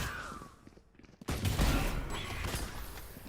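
A single pistol headshot from a Sheriff in the Valorant video game cracks out abruptly after a quiet moment, then dense, loud game gunfire and action sounds carry on to the end.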